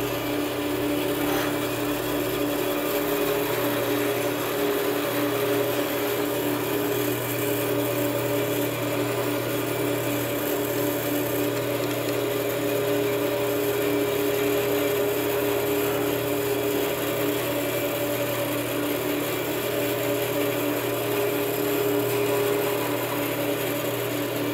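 Bandsaw cutting wood in a luthier's shop, a steady, close mechanical whir and hum with a faint rasp that holds evenly throughout, with no speech.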